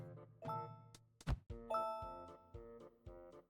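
In the video game Merge Maestro, a bell token is placed. It gives a soft, chiming ding-dong, then a quick thunk and a few tinkling tones, quiet and alone.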